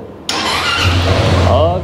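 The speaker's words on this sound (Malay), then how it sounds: "Tarik brake, lepas tu tekan starter." Zontes ZT368G adventure scooter engine starting after a moment of quiet, a sudden catch settling into a steady mid-pitched idle, close and loud.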